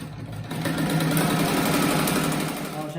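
A sewing machine stitching fabric for a patchwork bathroom set runs steadily and close up, with a fast, even mechanical whir and hum. No one talks over it.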